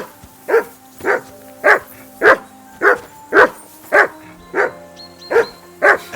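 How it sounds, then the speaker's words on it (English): A dog barks in the video game Kingdom Come: Deliverance 2, about eleven sharp, evenly spaced woofs at a steady rhythm, loud and close, with faint background tones and no talk. "Whistle at that mutt of yours to stop barking!"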